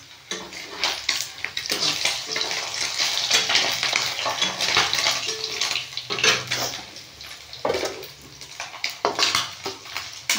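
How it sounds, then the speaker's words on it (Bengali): Parshe fish sizzle and crackle as they fry in oil in a pan, a dense continuous spitting hiss with occasional stirring scrapes and no speech. "এটা এই মাছ ভাজা হচ্ছে, দেখুন"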